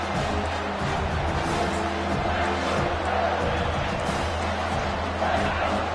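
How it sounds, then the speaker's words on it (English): Stadium crowd roaring continuously at a Trojans vs Wolverines football game, a dense, steady wall of cheering and noise with no clear pauses, heard close and loud throughout. "this crowd is bringing down the house"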